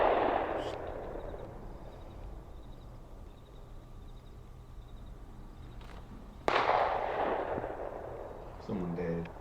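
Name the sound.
pistol gunshot in a played video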